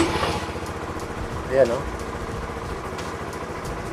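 A stock Honda Supra GTR150 motorcycle about four and a half years old starts and settles into a steady idle, its engine rumbling close by with a brief rev while someone speaks briefly over it.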